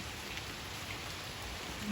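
Steady, even hiss of heavy rain falling all around during a storm in Brahmanbaria, Bangladesh, with no voices or other sounds.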